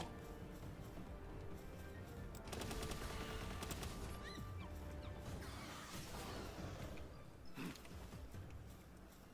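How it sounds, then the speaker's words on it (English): A Gatling gun fires in the game Palworld, sounding as a faint, rapid, continuous stream of shots mixed with dense battle noise and crashes, with a denser burst in the middle. "I'm running low on Gatling gun ammo"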